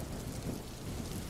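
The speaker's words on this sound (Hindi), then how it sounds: "बरसात की रात थी।" Steady heavy rain pours at night with a deep thunder rumble beneath, a dense unbroken wash of sound with no voices.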